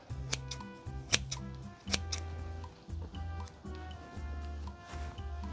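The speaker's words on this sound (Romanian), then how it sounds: "mi-am luat foarfeca pentru verdeață" Herb scissors snip lovage over a pot of traditional Romanian beef soup, a close, crisp series of about seven cuts in an uneven rhythm, each with a short metallic click and no talk.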